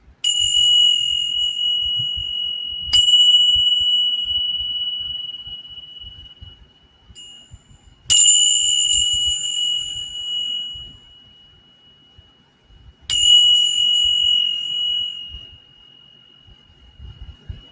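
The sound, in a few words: bells swinging past each other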